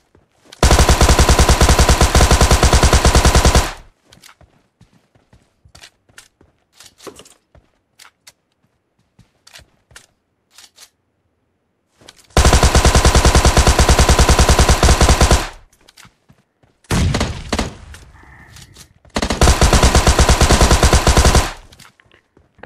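Rapid automatic gunfire erupts in a battle royale video game fight, three loud sustained bursts of several seconds each, separated by quieter stretches with scattered single shots and small clicks.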